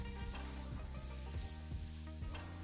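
Oil sizzling steadily in a pan as ingredients are sautéed and stirred for fried rice, with a spatula scraping and tapping the pan at a brisk rhythm, close and continuous.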